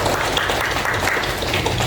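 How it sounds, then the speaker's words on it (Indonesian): Indonesian seminar audience on regional asset management applauding together, a steady dense wash of clapping sustained evenly throughout at moderate loudness with no voices over it. "sekalikan dong tepuk tangan untuk kita semua"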